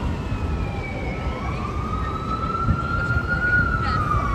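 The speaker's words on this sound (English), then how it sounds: "I think this is an ambulance." Ambulance siren wailing on a busy New York City street at rush hour, a rising tone sweeping through the clip over steady loud traffic rumble, with no talk.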